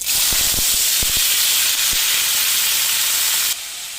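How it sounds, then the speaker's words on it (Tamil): Steady loud sizzling hiss of food frying in hot oil, with a few soft knocks early on, fading slightly at the end. "இப்போ இதை நம்ம ஃப்ரை பண்ணிடலாம்."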